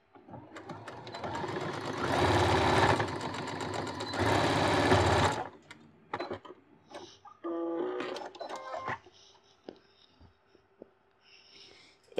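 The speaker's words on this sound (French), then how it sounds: "je fais des points d'arrêt en début et en fin de couture" Sewing machine running a straight stitch with locking backstitches at the start and end of a seam on a beginner's square pouch, two sustained bursts of stitching followed by shorter stop-start runs and small clicks.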